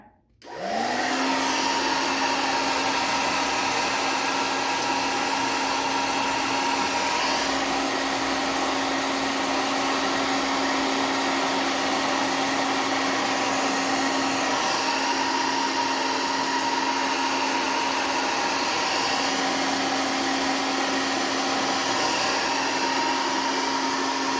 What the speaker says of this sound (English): notice that the blow dryer is already trying to pull the hair back